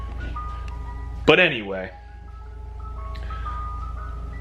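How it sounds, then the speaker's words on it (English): An ice cream truck outside a house plays its tinkling melody, faint and distant, with a clearer phrase of notes drifting in while someone talks nearby. "I think there's an ice cream truck outside of my house"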